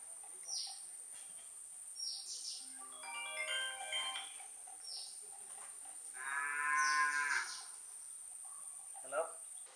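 Cows mooing near a jungle resort, with a couple of drawn-out lowing calls, the longest near the middle, over a steady background of insects and crickets, with faint voices also present.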